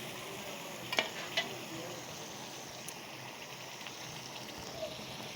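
Mutton tossed with spices in a pan gives a low, steady frying sizzle, with a couple of soft utensil knocks early on and no clear talk.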